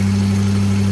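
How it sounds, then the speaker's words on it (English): A fire department pumper truck idles with a steady, loud low-pitched engine hum and a constant drone, close by and unbroken. "Pumper truck."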